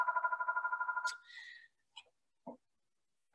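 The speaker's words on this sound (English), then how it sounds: "I'm going to mute that phone." A telephone rings with a rapid warbling trill for about a second, then cuts off, leaving a brief higher tone and a few faint clicks and knocks in a quiet room.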